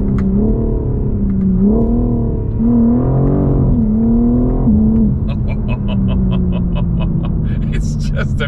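A BMW M4 CSL pulls hard through quick, crisp gear changes, the engine pitch rising then snapping back several times in a row, loud and close inside the cabin, before settling into a steadier drone with some talk under it.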